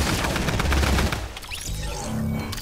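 A P90 firing in Fortnite, a dense rapid burst of gunshots for about a second, then a quieter stretch with scattered game sounds.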